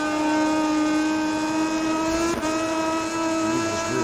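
A racing motorcycle engine in the MotoGP20 video game, ridden in an online race at the Termas circuit, holds a steady, high, buzzing whine at near-constant revs, loud and unbroken throughout.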